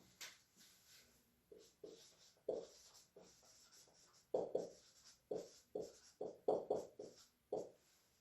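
Chalk or marker writing out a corrected word during a lecture, a run of short scratchy strokes that come in uneven bursts and grow denser toward the end, close and fairly quiet with no speech.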